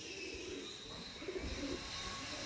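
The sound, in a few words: Chennai tournament pigeon cooing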